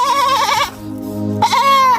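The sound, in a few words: goat bleating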